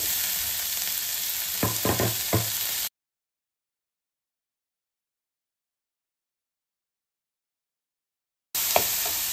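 Finely chopped tomato sizzles in a pan of vegetables for a masala sandwich filling, with a few stirring scrapes, then breaks off into a long silence before the steady sizzle returns.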